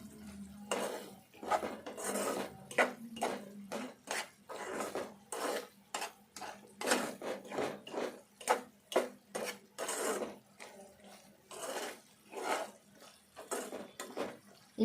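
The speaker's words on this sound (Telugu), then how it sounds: "ఇందులో వేసి కలుపుకోవాలి" Cashews stirred into a carrot laddu mixture in a pan: rapid, close metallic scrapes and clinks of a spoon against the pan in an uneven rhythm, quiet overall, with no talking.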